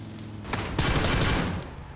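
A rapid burst of gunfire from the video game PUBG Lite, loud and close, rattles for about a second before fading, with no talk over it.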